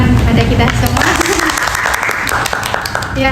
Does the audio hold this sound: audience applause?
yes